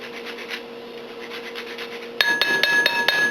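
Citrus peel grated on a handheld zester: a steady dry rasping scrape, then a brighter run of several sharp rhythmic strokes close by, with no talking.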